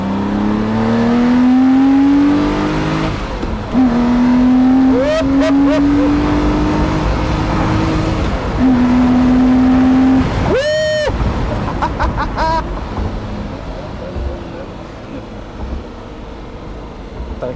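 A Lamborghini Murciélago Roadster accelerates hard through several gear changes, its engine note climbing, dropping and climbing again, loud and close, with a brief whine near the end.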